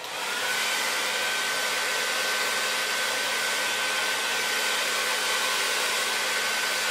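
A T-360 Smooth-air hair dryer blows without a nozzle, a loud, even, continuous rushing of air with a steady motor hum and a thin whine, constant from start to end.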